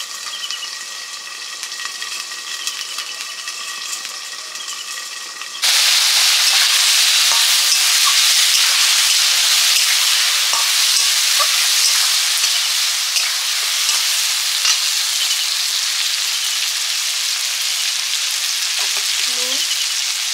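Shahi paneer is fried and stirred in a pan after fresh cream goes in: a quiet background gives way to a sudden loud, continuous sizzle with faint scrapes of stirring throughout.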